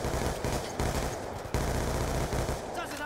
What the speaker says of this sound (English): Oh, people are shooting me.